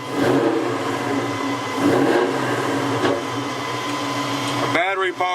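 Coyote V8 swapped into a Fox body Mustang revs up, a steady loud engine drone swelling in two surges, ending with a brief higher whine at the close.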